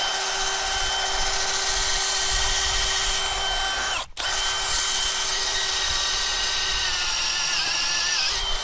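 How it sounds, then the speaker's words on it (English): A power drill bores into hard dirt to make a trap hole for coyote or fox, whining steadily at close range, cutting out briefly midway, then spinning up again. "Stick my drill in"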